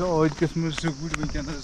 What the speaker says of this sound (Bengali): এতটা নির্জন যে ঝিঝি পোকার ডাক শোনা যাচ্ছিল।